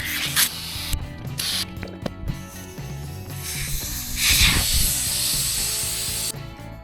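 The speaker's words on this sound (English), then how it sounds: "We're gonna put some air in this to kind of stretch it out" A pump pushes air into a new inner tube for a chopper motorcycle's wheel, sounding as bursts of close hissing and rubbing, with mechanical clicks between the strokes.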